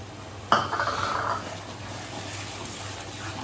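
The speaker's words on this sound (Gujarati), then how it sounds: "પ્યુરીને પણ હવે આપણે સારી રીતે મિક્સ કરી લઈશું." A spoon scraping against a pot as tomato puree made from two tomatoes is stirred into dal makhani gravy, with one clear clink followed by soft stirring and a faint sizzle, fairly quiet.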